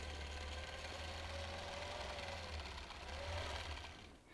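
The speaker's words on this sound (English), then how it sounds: "I do stitch over my pins." A home sewing machine hums steadily at a moderate pace while stitching through quilt layers and over pins, a continuous close mechanical whir with a faint rhythmic knock, no talking.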